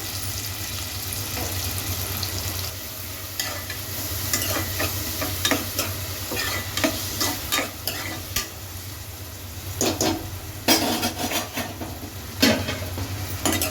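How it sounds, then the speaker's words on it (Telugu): Two chopped onions fry in about four tablespoons of oil in a pan for mutton kheema, producing a loud continuous sizzle broken by repeated clattering stirs through the second half. "మనకి ఆనియన్స్ కొంచెం బ్రౌన్ కలర్కి వచ్చేంత వరకు మనం ఫ్రై చేసుకోవాలి"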